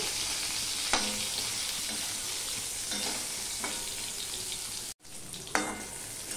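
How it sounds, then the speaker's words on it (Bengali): Eggplant pieces fry in a pan without salt or turmeric, a steady dense sizzle running throughout with a few sharper spatters and stirring scrapes, loud and close. "দেখো বেগুনগুলো ভাজা হয়ে গেছে, নুন হলুদ দিইনি, এমনিতেই ভেজে নিয়েছি।"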